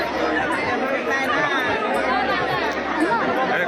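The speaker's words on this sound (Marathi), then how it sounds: "मोठी गर्दी झालेली आहे" A large crowd at a Konkan temple jatra of Shri Dev Kolamba chatters in a steady, dense babble of many voices, close and continuous, with no single speaker standing out.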